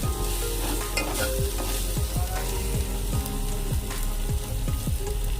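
Spices and ginger-garlic paste fry in hot oil with a loud, continuous sizzle, punctuated by regular scraping strokes of a spoon stirring the pan.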